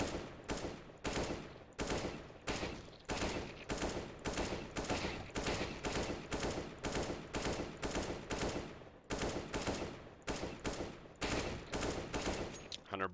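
Rapid bursts of gunfire from CS:GO during an aim-training routine, short sharp volleys repeating in a steady rhythm with only brief gaps, loud and continuous throughout.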